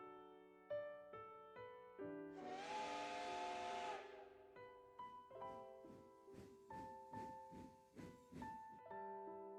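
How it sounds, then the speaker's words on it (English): A steam train in the Code Realize game blows a loud whistle blast with a burst of hissing steam, framed by soft music with no talking. "The train shrank into the distance as it blew both whistle and steam."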